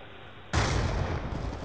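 A flashbang grenade in a video game bursts suddenly after a quiet moment, a sharp loud blast that gives way to a sustained harsh hiss and roar, with no talking.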